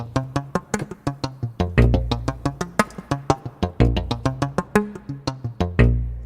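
Synthesized flute patch from Omnisphere 3 playing a quick rhythmic melody of plucky, breathy notes with low sustained tones underneath, loud and clear with no talking.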